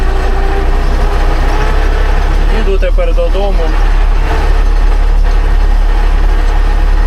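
A faulty tractor with a broken gearbox, running in the low range of fifth gear, makes a loud, unbroken rumbling drone throughout, while someone speaks briefly in the middle.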